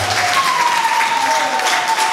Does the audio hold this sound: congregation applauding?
yes